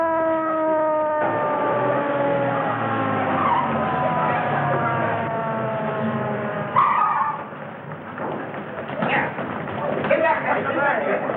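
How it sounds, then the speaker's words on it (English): An ambulance siren wails, rising and falling steadily, then tires skid sharply, followed by engine and traffic noise with people talking. "Ambulance coming."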